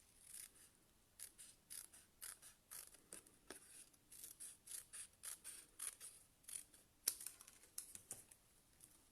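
Cutting along a pencil line on a mosaic box, a quiet run of short crisp snips or scratches, about a dozen irregular bursts one after another, close and faint, with no talking.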